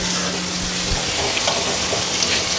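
Sunny frying and stirring muri ghonto in a home kitchen, a continuous close sizzle with occasional soft scrapes and clinks of a utensil against the pan, no voices.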